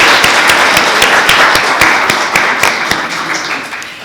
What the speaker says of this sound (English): I'd like for us to start with a round of applause for our student pianist, Gaspare Loduca.